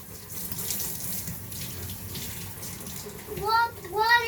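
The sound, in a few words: water running while washing a big dog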